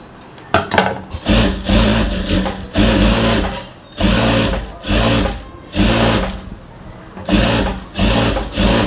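Sewing machine stitching a blouse, loud and close, running in repeated bursts of rapid mechanical chatter about a second long, separated by short pauses as the fabric is repositioned, with no talk.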